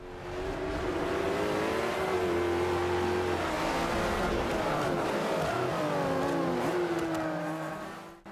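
A racing car engine in Forza Motorsport 5 screams at high revs throughout, rising and dropping with gear changes amid the roar of other cars in a race, fairly quiet overall and fading out at the end.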